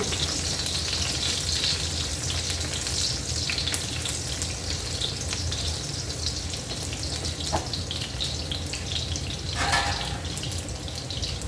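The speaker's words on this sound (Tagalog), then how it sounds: "Lagay na natin ang ating bawang." Garlic frying in a pan for a simple vegetable dish, a dense, steady close sizzle with occasional stirring scrapes and brief spatters, continuous throughout.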